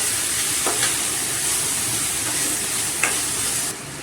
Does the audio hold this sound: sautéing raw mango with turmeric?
yes